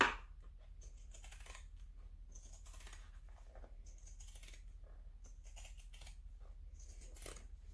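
Fabric being trimmed for sewing, with quiet, irregular snipping and soft handling clicks spread across several seconds, close by and faint, with no talking.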